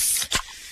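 A freshly opened can of fizzy Pepsi gives a short, bright hiss of escaping carbonation, loud and close, then a faint fizzing tail.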